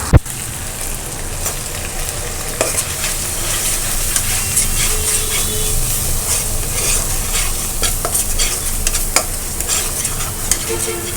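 Ginger-garlic paste with whole and ground spices sizzles in a pan of fried onions, a steady hissing fry broken by repeated scraping and clinking stirs of a spoon, close and continuous with no talking.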